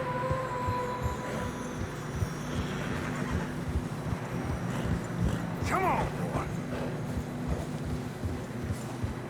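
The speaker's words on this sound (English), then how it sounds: "Horses are getting tired." Horses trudging through fresh snow along a narrow trail in Red Dead Redemption 2, with soft hoof steps, a low rumble and a whinny partway through; a man briefly urges his mount on.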